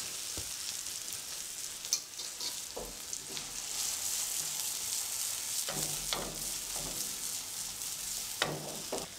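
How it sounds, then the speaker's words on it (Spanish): Eggs frying in a pan give a steady, bright sizzle, broken by several scraping knocks as a utensil stirs them, close up and with no voices. "Lo seguimos revolviendo hasta que el huevo esté cocido, porque tenemos que cuidar de que no se nos vaya a pegar abajo"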